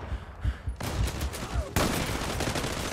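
Rapid bursts of gunfire from the online shooter Zula, including an AWP sniper rifle, crackle in quick succession, with the sound sharply brightening and growing louder partway through and staying dense to the end.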